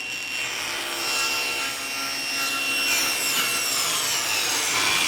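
A power saw rips a wooden board lengthwise to width, giving a continuous loud, rough whine with grinding wood noise that holds steady throughout, close and alone.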